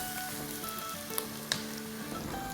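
Chillies sauté in a hot pan, giving a steady, close sizzle and fine crackle throughout, with a couple of sharper pops and no talking.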